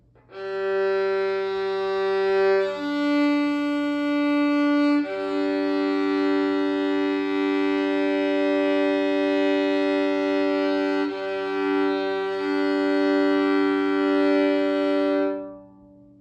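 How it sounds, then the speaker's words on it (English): A single bowed violin note on G, then D joins to sustain both strings together as a rich double stop, held steadily and fairly loud. "play just a G and just a D, and then play them both together"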